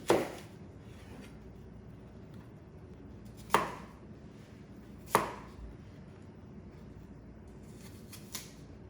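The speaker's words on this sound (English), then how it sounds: "we're going to peel them and finely chop them" A knife chops peeled green Granny Smith apples on a cutting board, a few sharp isolated thuds spaced seconds apart, close and clear over a quiet background.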